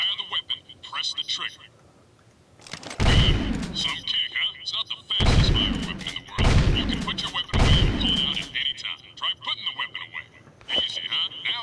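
Shotgun blasts in the video game Jak 2, four loud broadband bursts spaced about a second apart between stretches of game music and effects, with chatter around them.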